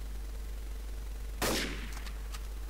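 One sharp gunshot cracks out mid-clip in the Trouble in Terrorist Town first-person shooter game, loud and close with a short ringing decay and a few faint echoing taps after it, over a steady low hum.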